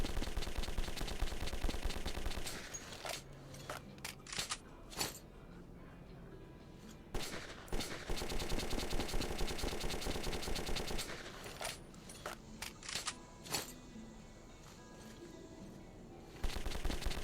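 A gun in Metro 2033 fires in long sustained bursts until it overheats, rapid loud rattling broken by short pauses and a few isolated clicks, heard close with no talking over it.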